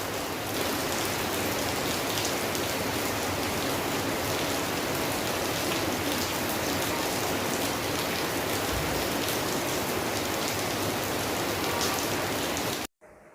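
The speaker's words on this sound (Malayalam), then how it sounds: "പുറത്ത് നല്ല മഴയാണ് കേട്ടോ" Heavy rain pours steadily, a dense, even patter with no pauses, filling the whole clip before cutting off abruptly.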